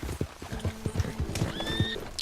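Video game horse hooves clip-clop in a quick steady rhythm, close and clear, with a short whinny rising over the footfalls toward the end.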